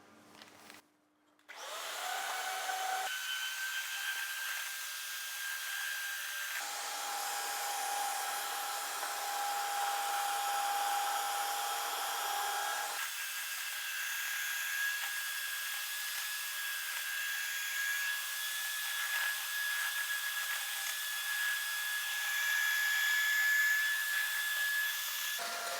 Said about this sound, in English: with our electric whisk